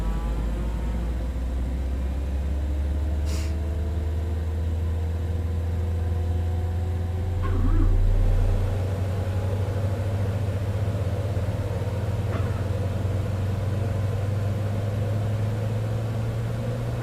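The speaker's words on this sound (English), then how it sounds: "starting the right engine." In Microsoft Flight Simulator 2024, the right engine of a Cessna Citation X business jet spools up with slowly rising whining tones over a steady low drone. The sound is moderate and continuous, with no voices.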